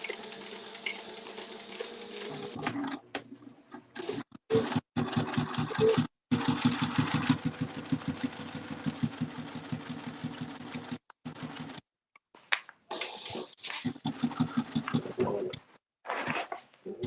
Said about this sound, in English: I'm going to sew these together, leaving a gap.